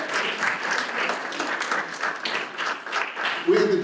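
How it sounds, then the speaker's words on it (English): An audience at a juvenile justice coalition luncheon gives a short round of applause, steady scattered clapping filling the room for several seconds with a speaker's voice faintly over it. "give yourself a quick round of applause"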